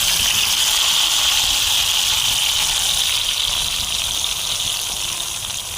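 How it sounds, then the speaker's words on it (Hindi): Marinated chicken hits about three spoons of hot oil for a Turkish-style chicken dish, giving a loud, dense, close sizzling hiss that holds steady and eases slightly toward the end. "तो ऑयल हमारा अच्छे से गर्म हो चुका है। तो इसमें हम मैरिनेट किया हुआ चिकन डालेंगे।"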